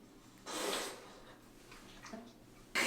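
A pet named Biggie sniffs and snorts at a closed door, with a couple of breathy snuffling bursts separated by quiet, close and fairly loud.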